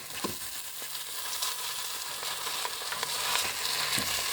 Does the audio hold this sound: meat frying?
yes